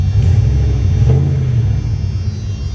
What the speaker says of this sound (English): this truck, look at that, fires right up